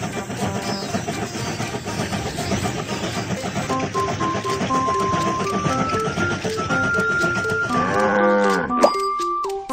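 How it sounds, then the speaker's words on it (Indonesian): A flock of sheep on a cartoon train track, heard as repeated bleating and mooing-like calls over continuous animated music and tones, growing busier toward the end. "Sekawanan domba ada di jalur."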